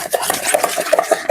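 Sugar being stirred into cake batter to dissolve it for a tiny cake, a steady run of scraping, rasping strokes against the bowl with small clinks, close and moderately loud, with no talking.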